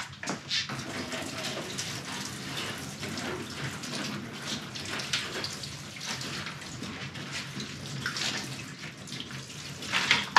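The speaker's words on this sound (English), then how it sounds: "Let's take a huge bottle of water and pour it down and see where this goes." Plain water streams from a large bottle over the hood vents of a Toyota GR Yaris, a continuous splashing patter like rain on metal, close and steady, with a clatter at the end.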